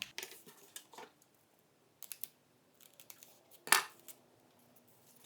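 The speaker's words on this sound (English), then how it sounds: "we're gonna want to cut along that triangle" Scissors snip through paper while cutting out a paper doll: a few sparse, crisp cuts with pauses between, one louder snip near the end, close and otherwise quiet.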